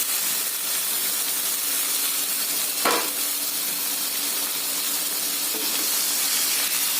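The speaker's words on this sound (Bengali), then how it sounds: "কিছুক্ষণ ভাজা ভাজা করে নিয়ে তারপরে সব মশলাগুলো দেবো" Prawns and taro stolons frying in a pan with onion, garlic and chilli give a steady, close sizzle and hiss throughout, with one brief clatter from stirring partway through.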